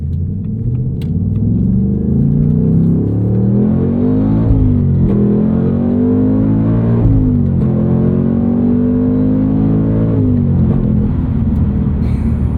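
A 2024 Ford Mustang Dark Horse with its 500 hp V8 and six-speed manual, heard from the cabin: loud continuous engine drone rising in pitch through revs, dropping sharply at each of several gear shifts, then climbing again.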